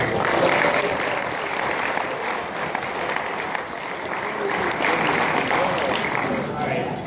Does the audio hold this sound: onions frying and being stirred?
no